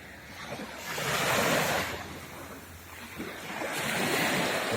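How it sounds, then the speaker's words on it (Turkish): Sea waves roll in and wash up a sandy beach at Marmaraereğli, Turkey, in two broad surges, a soft roar rising and falling with some wind. "Sadece şu dalgaların sesi bile"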